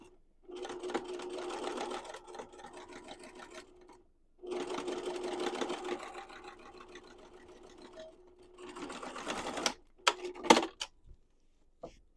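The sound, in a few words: sewing machine stitching a flat felt seam on a duffle bag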